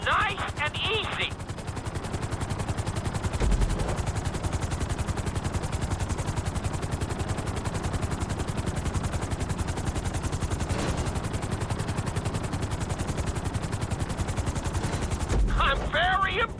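A helicopter setting down on a landing pad in Red Dead Redemption 2, its rapid rotor chop pulsing steadily and loudly throughout, with brief voice-like bursts at the start and end.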